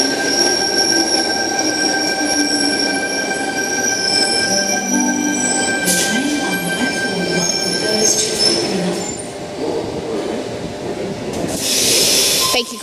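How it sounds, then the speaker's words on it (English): A Sydney Tangara suburban train, sets T126 and T129, departs platform 1 for Cronulla with loud, sustained high-pitched wheel squeal and steady rumble heard close by, a hissing burst near the end. "We have T126 and T129 now departing platform 1 for Cronulla."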